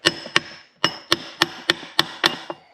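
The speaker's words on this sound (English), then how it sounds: "So we just need to bend back these tabs here, so I'm just going to grab my chisel." A chisel tapped against the tabs on a Morris Mini 850 gearbox to bend them back, giving about eight sharp, close metallic strikes in an uneven rhythm, each ringing briefly before the next.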